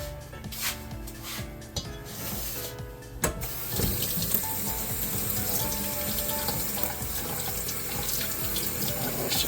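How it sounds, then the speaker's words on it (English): Some brief handling and clatter, then cold tap water runs steadily into a sink as goat meat is rinsed under the stream. "Make sure your water is cold and you're rinsing."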